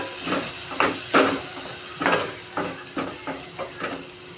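Tomatoes tossed into hot oil for prawn curry, giving soft hissing sizzle with a series of scraping stirs at a steady, fairly close level; no one talks.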